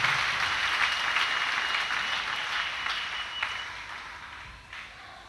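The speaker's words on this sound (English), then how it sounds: "Clap for Jesus again." A church congregation claps together during a sermon, producing a dense wash of applause that starts full and gradually thins and softens toward the end, with no talking over it.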